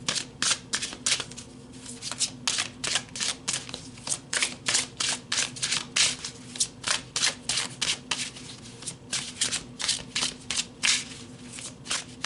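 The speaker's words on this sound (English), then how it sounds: "So let's pull some more cards." Tarot cards are shuffled by hand close up, giving a fast, irregular run of crisp riffles and slaps. Brief pauses fall between bursts as cards are pulled.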